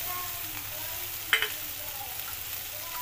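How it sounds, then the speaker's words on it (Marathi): Coarse chilli thecha hitting hot oil in a kadhai, a low steady frying hiss with a brief sharper sizzle and clatter partway through, no one talking. "त्याच कढईमध्ये मी 1 चमचा तेल टाकलेला आहे गरम कराय। लगेच आपण जो खरडा बारीक केलाय तो टाकूया।"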